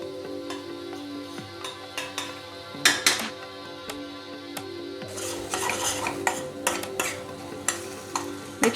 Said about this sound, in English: Make sure you can stir the tomatoes a little bit over here for the Palak Paneer.